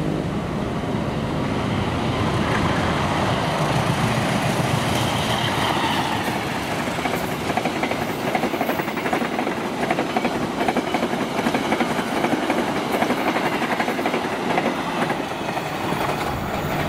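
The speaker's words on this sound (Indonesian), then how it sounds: "Berikutnya kereta api Bangunkarta 121D" Bangunkarta passenger train 121D goes by close and loud, a steady roar of rolling carriages and wheel clatter that holds for the full stretch, with no talk over it.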